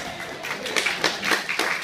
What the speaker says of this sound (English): I like that applause.